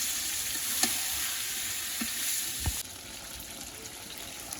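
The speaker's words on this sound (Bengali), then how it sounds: "মাংস কষানি শুরু করে দিছি, মাংস কষে বেনছি" Meat frying in oil and being stirred, a steady close hiss of sizzling with a few faint scrapes and taps, the sizzle dropping slightly in level near the end.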